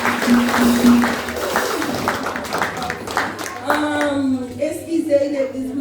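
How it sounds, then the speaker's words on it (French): A church congregation claps for the pastor, brisk rhythmic hand clapping mixed with scattered voices and singing, with a voice audible. "applaudissez pasteur pour moi à la gloire de Dieu"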